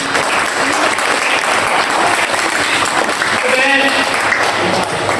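An audience at a poetry gathering breaks into loud, continuous applause after a recited couplet, the clapping dense and steady throughout, with faint voices mixed in underneath.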